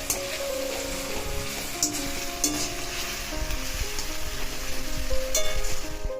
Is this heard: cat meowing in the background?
no